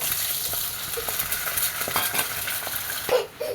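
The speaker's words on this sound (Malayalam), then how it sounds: "ഒരു സ്പൂൺ വെളിച്ചെണ്ണ ഒഴിച്ചു കൊടുത്തു ഇതാ ഒരു മുട്ട ഒഴിച്ചു കൊടുത്തു" An egg fries in coconut oil in a pan with a loud, close, steady sizzle, broken by light scraping and clinking taps from stirring.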